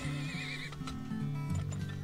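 In the oil-drilling video game Turmoil, a horse gives a loud, wavering whinny, followed by clip-clop hoofbeats and game sounds.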